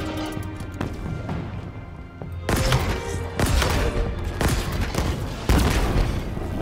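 Gunfire from a first-person shooter, Halo Infinite: a dense burst of shots and booming impacts, with loud rapid clusters starting mid-way and continuing in bursts to the end, close and punchy.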